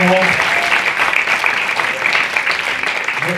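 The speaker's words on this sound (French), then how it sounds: "Moi, je propose d'applaudir très fort nos" Audience at an evening event on arts and disability applauding the speakers, dense clapping throughout with a voice briefly audible at the start.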